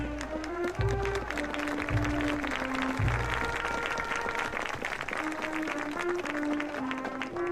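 A crowd at a high school football game applauds the senior honoring, with broad sustained clapping throughout and band music playing sustained tones underneath.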